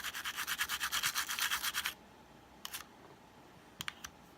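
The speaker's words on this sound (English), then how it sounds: "we'll go ahead and hit these ones too with the toothbrush." Close, brisk toothbrush scrubbing on PlayStation Portable parts, a steady rapid run of strokes for about two seconds, then two short bursts of brushing after a quiet pause.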